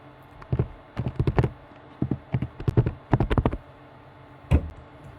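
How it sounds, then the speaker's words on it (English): Computer keyboard keys clack close by in irregular bursts of quick taps with short pauses, ending in one louder single strike. "sorry if you start to hear some noise when I'm working. I'm hitting my keyboard."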